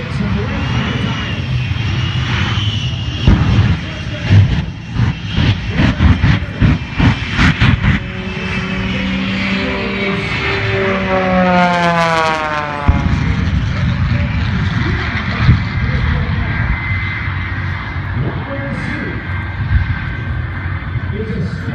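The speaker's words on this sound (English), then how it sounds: "It's a standing start from the Shockwave jet truck." Shockwave jet truck roaring at the NAS Pensacola Blue Angels air show, a loud sustained jet blast with sweeping rising tones and crackling bursts, heard amid crowd noise and a public-address commentator talking.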